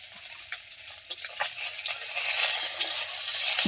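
Thinly rolled tomato snack dough fries in hot oil in a wok on a gas stove, giving a steady bubbling sizzle that grows louder and denser over a few seconds, with no voices.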